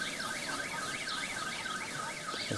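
A car alarm goes off with a rapid, repeating rising-and-falling electronic wail, loud and continuous, out in the countryside near a field of sheep.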